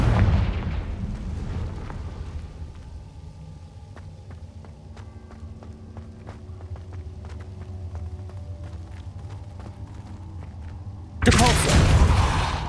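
The Confringo fire spell bursts in Hogwarts Legacy: a loud blast opens, fades into a low rumble with scattered clicks and ticks, then a second loud, broadband burst hits near the end.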